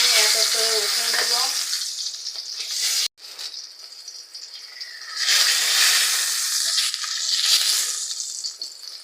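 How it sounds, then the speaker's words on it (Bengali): Pieces of koi fish sizzling in hot oil in a frying pan: a loud, close sizzle at first, broken by a sudden short gap, then a softer hiss that swells again. "মাছটা একটু হালকা করে ভেজে নেব।"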